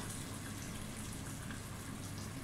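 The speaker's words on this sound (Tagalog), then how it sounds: "pwede na po natin dagdagan ng pinakulong tubig para po magkaroon na po ng sabaw ang ating tinolang manok" Boiled water poured into a pot of chicken wing tinola makes a brief, steady gushing splash throughout, with no talking.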